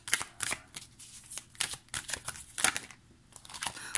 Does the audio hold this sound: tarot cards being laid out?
yes